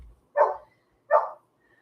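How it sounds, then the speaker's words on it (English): A dog barks twice, about three-quarters of a second apart, each a single sharp, mid-pitched woof in an otherwise quiet space, fairly close but not loud. "I'm gonna let this dog in before he drives me crazy."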